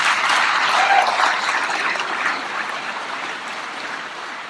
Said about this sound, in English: I hope you will also applaud this